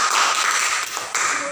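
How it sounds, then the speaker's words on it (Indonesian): A classroom of children applauds group 2 after their presentation, a dense wash of many hands clapping at once, steady and fairly loud throughout. "Sekarang mari kita tepuk tangan untuk kelompok 2"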